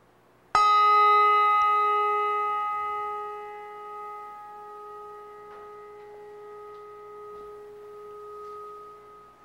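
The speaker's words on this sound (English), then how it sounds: "And one more bell." A single church bell is struck once in remembrance during a United Methodist church service, ringing out clearly and then fading slowly in a long, humming decay.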